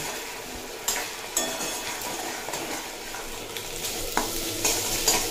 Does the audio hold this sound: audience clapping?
no